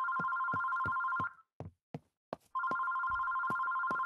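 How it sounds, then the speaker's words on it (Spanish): A telephone bell ringing in the horror game Terroro, loud repeated rings in two bursts separated by a short gap with a few knocks, no voices present. "¡Teléfono, teléfono!"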